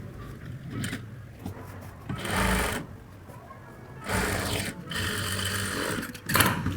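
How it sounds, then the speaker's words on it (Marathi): A sewing machine runs along the lower side of a katori blouse, stitching in uneven bursts, with mechanical clicks and fabric handling between runs; close and moderately loud, and no one speaks. "खालच्या साईडने पुन्हा शिलाई मारणार."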